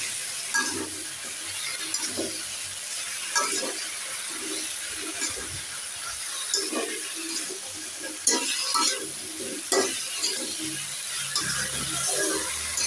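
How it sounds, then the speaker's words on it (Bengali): A vegetable curry is sautéed in a pan with a constant hiss of frying and repeated soft scraping and knocking of a spoon turning it, close and fairly even throughout, without speech. "তরকারিটা সুন্দর করে কষিয়ে নেব।"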